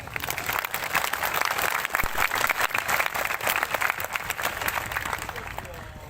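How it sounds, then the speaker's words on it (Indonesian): A crowd at the 42nd anniversary celebration of the IKS.PI Kera Sakti martial arts group, Siak branch, claps in a dense, continuous patter while people talk over it. "Tepuk tangan untuk Kerasakti."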